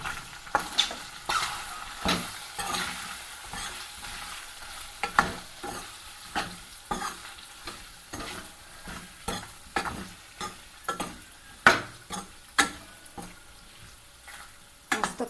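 Chicken pota, seasoned with red chilli powder, black pepper and salt, fries in a pan while a spoon stirs it in steady scraping strokes over a soft, continuous sizzle, heard close in a village kitchen.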